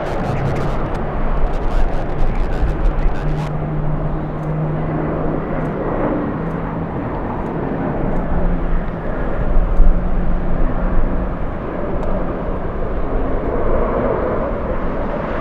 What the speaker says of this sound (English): We're looking at United Airlines 530. This is an A321neo.